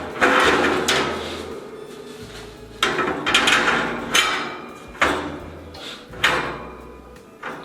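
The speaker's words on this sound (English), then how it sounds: "we're simply gonna put the grates into the grill firebox" Metal grates are set into the firebox of a Royal Gourmet 24-inch charcoal grill, giving a series of loud, close clanks and knocks in irregular bursts with scraping between them, no talk.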